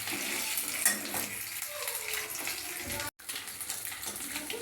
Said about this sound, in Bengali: ভাজা হয়ে গেল ডিমগুলো সুন্দর করে লাল লাল করে